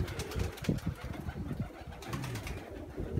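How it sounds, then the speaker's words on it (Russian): A crested pigeon cooing softly in low, repeated throaty notes amid gusting wind noise outdoors in Volgograd, Russia. "Это чубатый шоколадный голубь, но она не летала, она сидела."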